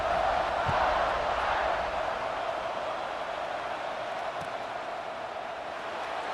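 Stadium crowd at a Notre Dame Irish football game in the tied final period, a steady, dense, loud roar of many voices that stays fairly even throughout with no clear individual speech.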